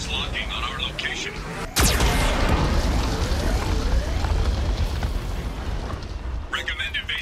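A geth cannon fires in Mass Effect 2: a sudden sharp blast gives way to a long roaring, rumbling explosion that stays loud for several seconds, with voices talking before and after.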